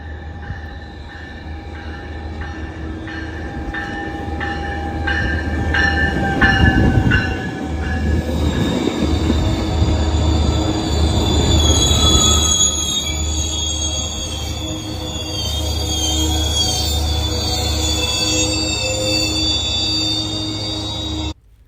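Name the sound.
Metrolink train wheels squealing as train comes to a stop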